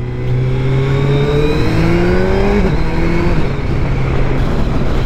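A Suzuki GSX-S1000 GT motorcycle engine at Daytona Bike Week drones loudly and steadily, its pitch sweeping upward as the revs climb, then settling into a sustained hum.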